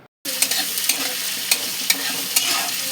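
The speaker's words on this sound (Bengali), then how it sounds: "ঘিটা ভালো করে গরম হলে আগে থেকে কোচানো পেঁয়াজ তেলের মধ্যে ভালো করে ভেজে নেব।" Chopped onions fry in hot ghee in a pan for shahi chicken, a steady close sizzle with sharp crackles and soft stirring scrapes, no voices.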